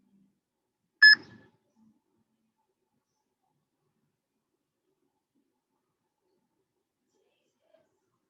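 A single short electronic workout timer beep sounds once, crisp and isolated against near silence, marking the end of a 30-second push-up interval.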